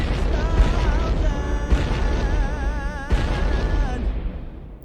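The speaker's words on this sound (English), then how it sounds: "you have to end off with the iconic explosions from MrBeast." Booming explosion effects burst out in a few heavy hits, layered over a dense, warbling theme song that cuts off near the end.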